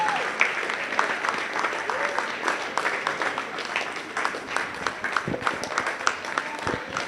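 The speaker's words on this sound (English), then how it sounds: "please? Round of applause." An audience at a stage play breaks into applause, a steady wash of clapping with a few sharper claps standing out and a voice faintly mixed in underneath.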